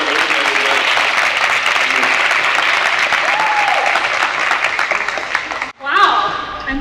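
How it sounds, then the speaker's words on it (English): Audience applause at a school gathering, a dense, steady roar of clapping for nearly six seconds that cuts off sharply, followed by a brief burst of sound as a voice begins. "So let's just give her a round of applause."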